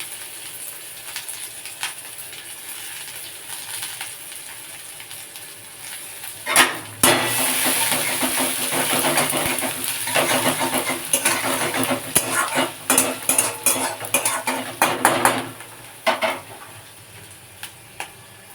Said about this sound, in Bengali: কড়াতে আবারও একটু তেল দিয়ে দিলাম দিয়ে পেঁয়াজ কুচি